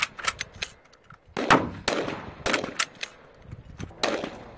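An M26 modular shotgun fires in its standalone configuration, with buttstock and pistol grip: several sharp, loud reports spaced about a second apart, each followed by a short ringing decay, plus lighter mechanical clacks between shots.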